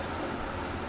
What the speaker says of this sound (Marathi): मी आता धुवते याला चांगलं पाण्याने